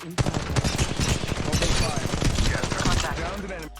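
Rapid automatic gunfire from Apex Legends Mobile rattles in quick, closely packed bursts, loud and continuous for a few seconds with no pause.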